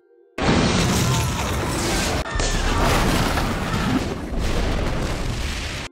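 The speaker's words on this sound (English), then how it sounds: "there is a sudden explosion." A sudden explosion in a film bank-robbery scene bursts in at full loudness, then a sustained roaring, crashing rumble with debris and brief dips continues for several seconds.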